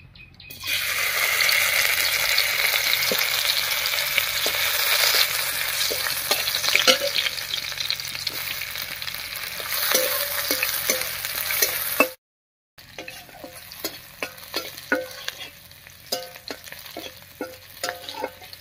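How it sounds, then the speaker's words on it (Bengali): Crushed garlic and slit green chillies hit hot mustard oil with a loud, dense sizzle that hisses steadily for several seconds, then a short gap before quieter crackling returns with scattered stirring taps. "এবারে তেলের মধ্যে দেবো কয়েক কোয়া রসুন থেতো করা, আর দেবো চেরা কাঁচা লঙ্কা।"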